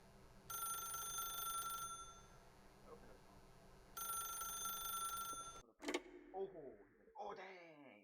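A telephone rings in The Stanley Parable video game, two long electronic bell bursts separated by a pause, heard over a low background hum, followed by a voice speaking.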